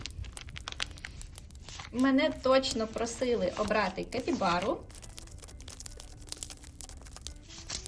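Paper surprise packets from an advent calendar collection rustle and crinkle as they are picked out, in short scratchy bursts before and after someone speaks.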